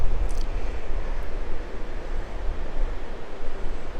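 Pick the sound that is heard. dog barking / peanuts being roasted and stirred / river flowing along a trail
river flowing along a trail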